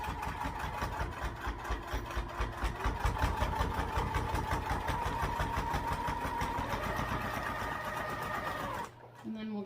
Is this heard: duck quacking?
no